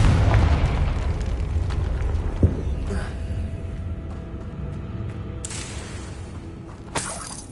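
The Confringo blasting spell going off in Hogwarts Legacy, a loud booming explosion that rolls and fades, followed by scattered shattering debris and a couple of sharper bursts, with no talking.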